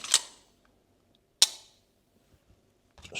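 Two sharp metallic clicks from a CZ Shadow 2 Target pistol during a function check, about a second apart, close and crisp in a quiet room, with a faint rattle just after.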